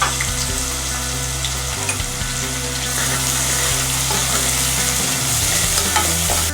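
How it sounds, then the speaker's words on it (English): Onions sautéing in hot oil with crushed peppercorns and whole garam masala, a loud, continuous close sizzle with occasional stirring scrapes, no talk. "Saute your onions."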